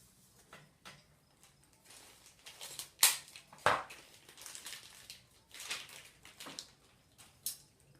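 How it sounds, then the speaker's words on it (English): Packaging for Rosemary and Company brushes is cut open, giving a series of faint crinkles, snips and plastic cracks with a couple of sharper clicks, close and quiet with no talk. "go ahead and cut off this package"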